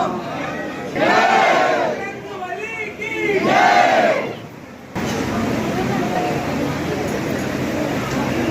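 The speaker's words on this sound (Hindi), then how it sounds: "भक्तों की काफ़ी भीड़ है, लंबी कतारें भी है, लेकिन फिर भी जयकारा लगाते हुए बढ़ते हुए आगे।" A large crowd of devotees in long queues at Hanumangarhi temple in Ayodhya shouts a jaikara chant twice in loud, rising unison bursts, followed by a steady hubbub of the throng.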